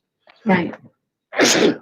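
A person sneezes close to the microphone during a school board meeting, a sharp burst after a short intake, with a brief spoken word alongside it.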